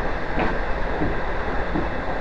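A V/line N461 train carriage rolls along the rails, giving a steady, loud rumbling hum with faint clicks from the wheels over the track, continuous for the whole stretch with no voices.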